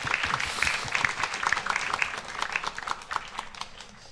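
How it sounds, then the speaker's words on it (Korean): Applause from a church congregation during a Sunday worship service, welcoming newcomers and international students: dense, steady clapping from many hands in a large room, fairly close and continuous throughout, with no talk over it. "박수 한번 드릴까요?"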